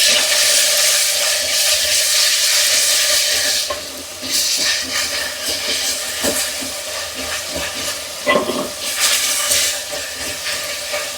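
Ginger garlic paste frying in a hot pan, a loud, close crackling sizzle that steadies and then breaks into scattered spits and stirring clatter.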